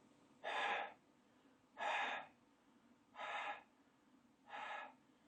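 Someone exhales into a face mask to check for air leaks: four evenly spaced, close breathy puffs separated by quiet pauses.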